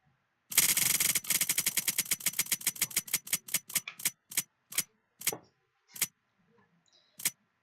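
In the video game Unturned, a crate opens to a rapid burst of sharp clicks that tick off one after another, gradually slowing and spreading out like a spinning roulette before stopping, with one last click at the end.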